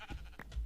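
A sheep in the modded Minecraft world bleats once, brief and faint, a short nasal call close by in an otherwise quiet moment.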